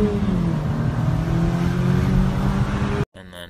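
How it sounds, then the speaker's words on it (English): An Eclipse car fitted with a short ram intake revs loudly and steadily nearby, its engine note climbing and holding for about three seconds before cutting off abruptly. "I have one old clip of the short ram intake"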